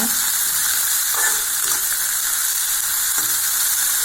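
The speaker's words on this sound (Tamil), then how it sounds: "நல்லா வெங்காயம் தக்காளி எல்லாம் நல்லா வதங்கணுங்க" Onions and tomatoes sautéing in a pan for chicken varuval, a dense, even hiss of frying with occasional soft stirring scrapes, loud and close throughout.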